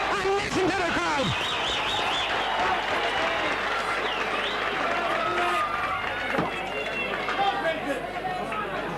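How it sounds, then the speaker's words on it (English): At a Gaelic football match between Tinahely and St Vincents, a crowd cheers, whistles and claps steadily after a score, a loud, continuous roar with chatter mixed in throughout. "Dickie puts Tinahely 2 points ahead and listen to the crowd."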